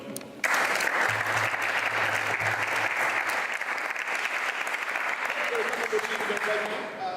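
Sustained applause from the audience at a World Bagpipe Day 2013 gathering, steady and full for several seconds, with a brief low hum early on and fading slightly toward the end.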